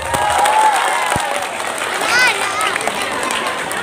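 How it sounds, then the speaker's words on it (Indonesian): A lively crowd at an Indonesian Islamic sermon with children present claps loudly and continuously in a dense, noisy wash, with chatter and children's voices mixed in. "Tepuk tangan yang meriah."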